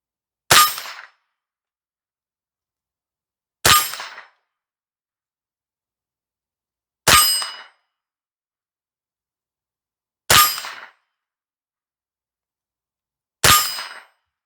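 A Remington Nylon rifle in Apache Black and Chrome fires five evenly spaced shots about three seconds apart, each a sharp crack followed by a short metallic ring from steel targets downrange, with no talking between them.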